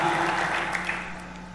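A church congregation applauding, a short burst of steady clapping from a crowd that fades out under a sustained musical tone.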